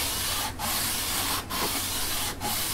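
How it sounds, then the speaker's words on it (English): An acoustic guitar saddle of Tusq or plastic rubbed back and forth on sandpaper, three long close scraping strokes separated by brief pauses, with no talk. "we're just going to run it back and forth along the sandpaper"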